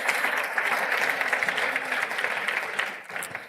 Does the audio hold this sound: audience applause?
yes